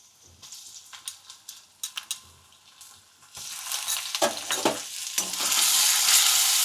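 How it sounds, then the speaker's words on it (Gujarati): Garlic paste and chili paste sauté in hot oil for a vegetable paratha filling: scattered spatula taps give way to a loud, broadening sizzle that swells and holds steady, with a few sharp scrapes along the way. No one speaks. "થોડી વાર આપણે તેલમાં સાતળી લઈ"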